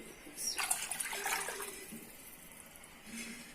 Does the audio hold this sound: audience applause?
no